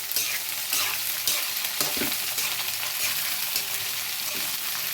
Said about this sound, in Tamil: இப்போ வெண்டைக்காயை சேர்த்துட்டு வெண்டைக்காய் நல்லா செவக்க வதக்கணும்